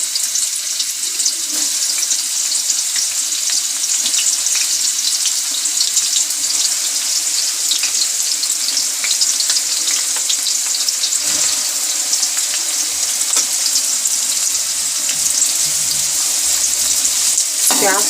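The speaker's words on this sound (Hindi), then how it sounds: "एक किलो तेल दिया है हमने, गरम हो गया है। प्याज डाल देते हैं।" Sliced onions hit a kilo of hot oil for a beef degi korma and fry with a loud, steady sizzle. The crackle and hiss stay dense and continuous, with occasional stirring.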